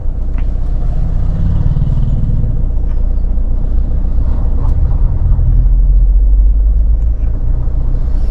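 An SUV engine idles and rumbles low and steady at close range as the vehicle creeps with half clutch and light throttle through a narrow village street, with no talk over it.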